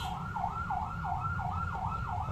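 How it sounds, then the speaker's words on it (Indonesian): A wailing ambulance siren sweeps up and down in a steady repeating cycle, heard at a distance over background room and traffic noise. "ada ambulan."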